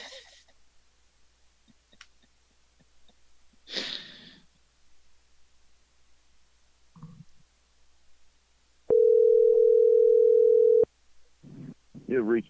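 A telephone dial tone after the caller hangs up: a loud, steady single-pitched tone lasting about two seconds, preceded by scattered faint noises and breaths on the line.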